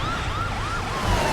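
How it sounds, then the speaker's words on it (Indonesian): An ambulance siren in a Korean drama gives a brief, loud, wavering wail that rises and falls in quick cycles over low road rumble. "Ambulans menjemput mereka setelah Sohyun menghubunginya."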